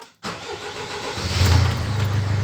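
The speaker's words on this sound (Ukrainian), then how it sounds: "вставляємо ключ і пробуємо заводити машину" A 2004 Mercedes-Benz Sprinter van is started with the key: a brief click, then a starter-like burst that settles into a loud, steady low engine idle building over the last second, with no talk.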